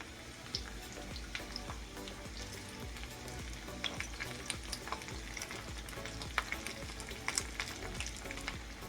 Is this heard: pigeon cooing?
no